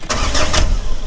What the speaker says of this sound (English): I'm just gonna do a crank first, just to see if it will turn over okay.